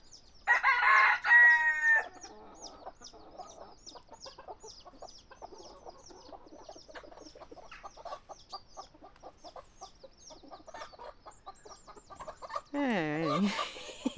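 Hens with chicks cluck in a steady, busy stream throughout, with loud squawks at the start and a rooster crowing near the end.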